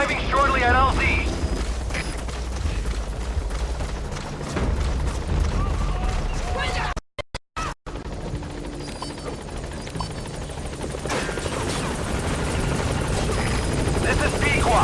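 The Pequod helicopter arrives at a landing zone in Metal Gear Solid V: The Phantom Pain, a loud continuous rotor roar with rumbling engine, briefly cut out midway, while radio voices talk over it.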